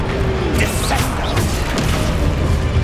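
A Descendo spell cast in the Hogwarts Legacy video game, heard as dense, loud, crashing whooshes and impacts packed closely together amid busy game effects.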